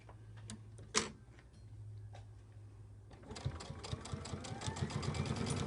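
A sewing machine stitching fabric on a first aid kit, with quiet clicks and a low hum at first, then a rapid run of close ticking stitches that grows louder toward the end.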